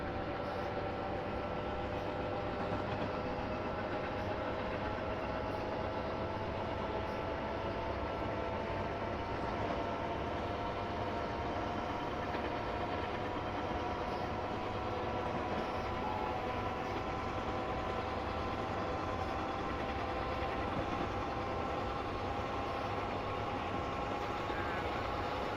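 A train runs steadily on the Northeast Corridor in a train simulator game, with a continuous loud rumble of rolling wheels and engine drone, and faint rising tonal whines layered over it throughout.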